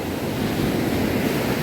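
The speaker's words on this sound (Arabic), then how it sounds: "بص الموج بيطلع لحد فين" Strong sea waves surge up a steep, sloping beach at Ras El Bar, a continuous loud roar of surf and wash with some wind noise, no voices.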